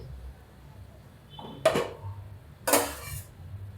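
A cooking pan lid is lifted off, giving two sharp metallic clinks about a second apart, close and clear over a quiet background hum.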